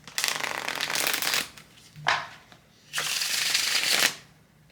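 A softened, well-worn tarot deck is shuffled by hand in three separate bursts of crisp, papery riffling, close and fairly loud, with short pauses between them.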